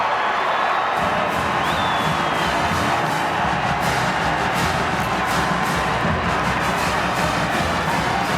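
A homecoming crowd at a 2019 Mississippi State at Arkansas college football game roars after a touchdown run, a dense, loud, sustained wall of cheering and shouting from the stands that never lets up.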